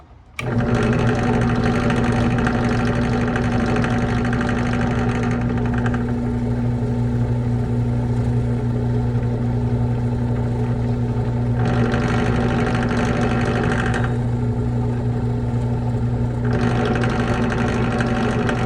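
A 3/8 Forstner bit bores into wood for a crankbait lure body, a steady loud motor whine with a constant hum that shifts in brightness as the bit cuts and eases off, close and continuous throughout.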